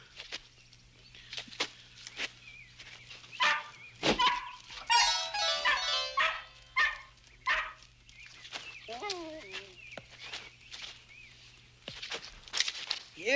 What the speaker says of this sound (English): Here, puppy.